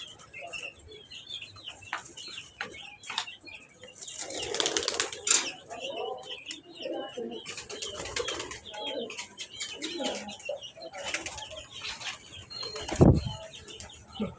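Pigeons flutter and flap their wings at a house rooftop, with bursts of wingbeats around mid-clip and a sharp clatter near the end, mixed with scattered chirps and light background voices.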